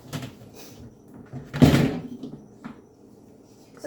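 A dishwasher's cutlery drawer is shifted, giving one brief, close scraping clunk in the middle with softer rattles before and after.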